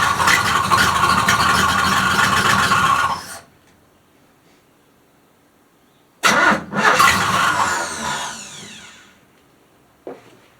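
A 1976 Chevy C10 engine cranks and runs loudly with the choke open, cuts off, then restarts and revs before fading and giving a brief final catch near the end.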